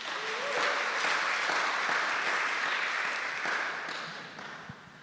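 Audience applause at an interview session, a steady wash of clapping from a crowd in a room, loud and continuous before tapering off toward the end.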